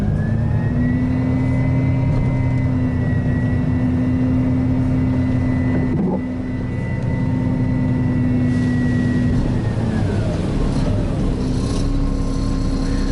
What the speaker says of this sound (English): PTOs are on, so we just lift it up. You don't have to hold it. So the bed's going up.